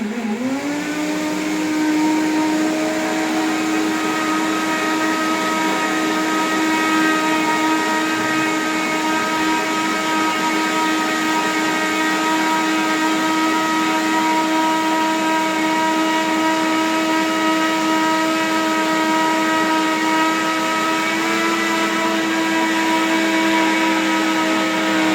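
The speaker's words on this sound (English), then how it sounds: "So now I'm gonna blender it." A blender runs continuously at high speed with a steady whirring motor tone, loud and close, with no one speaking over it.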